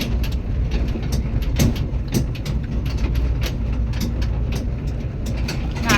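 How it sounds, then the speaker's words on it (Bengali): A toy train rolls through a forest of casuarina trees, giving a steady, close rumble of wheels and carriages with rattling clatter over the track, heard alone without talk. "কি গাড়ি চলছি? টয় ট্রেন চলছি।"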